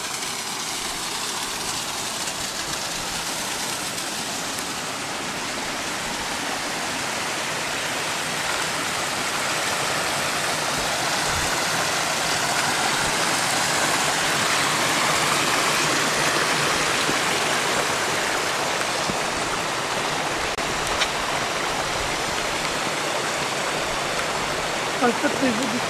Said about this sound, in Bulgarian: Ето един водопад по-отблизо.